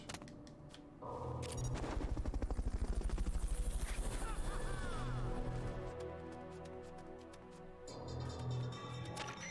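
A helicopter in the video game Metal Gear Solid: Peace Walker thumps with loud, rapid rotor pulses that swell and then settle into a steady roar, with game sound effects layered over it.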